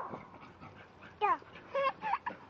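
Dogs whimpering and giving short yips outdoors, a few faint high cries rising over a steady background hiss at some distance.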